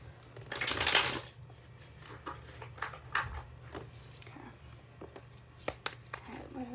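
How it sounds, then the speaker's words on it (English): A deck of cards riffles in a quick burst, followed by softer handling clicks and taps of cards being squared and dealt. "I'm going to shuffle this deck a few times."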